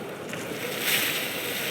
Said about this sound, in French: Je ne vois pas encore la côte, mais j'entends des vagues.